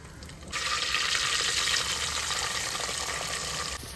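Spices such as fennel seeds and curry leaves dropped into hot oil burst into a loud, steady sizzle that starts abruptly and holds a bright hiss before cutting off.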